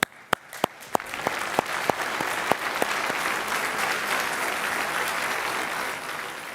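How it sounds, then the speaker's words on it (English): Audience applause for the kids at a Boys and Girls Clubs gala, starting with a few sharp individual claps that swell into sustained, steady clapping from a large crowd. "Let's give them one more round of applause"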